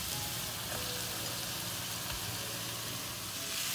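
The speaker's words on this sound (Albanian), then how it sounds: "Tani e hedhim tek qepa dhe skuqim së bashku me qepën." Fresh trimmed beef frying with onion and garlic in a pan, a dense, even sizzle that stays loud and close for a few seconds with no voices.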